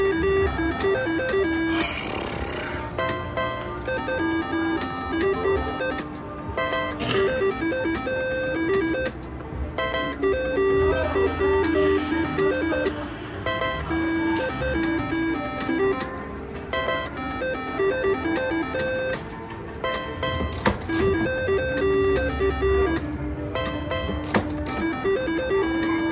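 A Five Times Pay slot machine in a high limit slot room spinning, with repeated electronic chimes and jingling tones over a steady casino din, loud and continuous.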